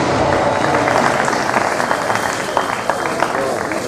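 Enthusiastic audience applause at a magazine launch ceremony in Chhindwara, a dense, continuous patter of many hands clapping throughout, with occasional louder individual claps and faint crowd murmur underneath.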